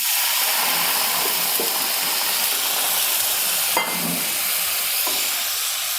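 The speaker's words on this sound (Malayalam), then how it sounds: "ഇതിലേക്ക് നമുക്ക് ആവശ്യത്തിന് വെള്ളം ഒഴിച്ച് കൊടുക്കാം." Water poured into a curry pan of pallathi fish curry with tamarind, followed by a steady loud sizzling hiss of simmering, with a couple of brief clinks, no talk.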